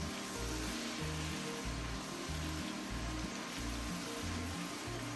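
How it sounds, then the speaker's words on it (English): Garlic and diced tomato pan sauce sizzles loudly and steadily in a hot pan, with a rhythmic scraping stir pulsing underneath at close range. "I'm gonna stir this through."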